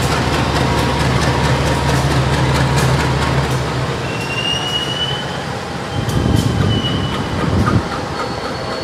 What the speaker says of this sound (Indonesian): jadi kereta Pasundan rangkaiannya didorong ke barat